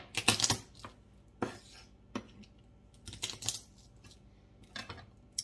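Kitchen knife blade pressed flat onto garlic cloves on a cutting board while making chicken noodle soup, giving a few sharp close crunches and knocks, with a cluster at the start and scattered taps after, no talking.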